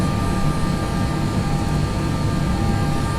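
A320 jet engines with CFM engines spool at takeoff power in the X-Plane 11 flight simulator, giving a loud, steady, broadband roar with faint tonal whine that holds evenly throughout.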